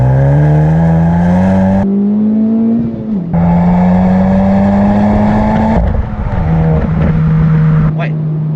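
A Volkswagen Golf with the 2.0 TSI engine pulls hard from second gear, its loud, close engine note climbing steadily through the revs, dropping briefly at each upshift, then climbing again, with some talk inside the car.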